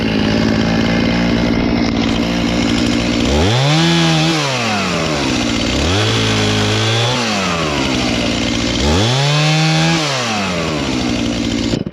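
A chainsaw runs loud and close while cutting wood, its motor droning high and steady, then dipping and revving back up three times as the blade bogs into the log.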